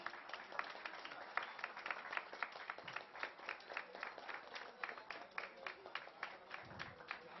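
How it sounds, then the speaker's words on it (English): Faint, distant clapping from an audience at a 2018 event in Kolkata, a steady run of separate, quiet hand claps lasting several seconds with little else around it. "can we please have a big clap for Sukantoda?"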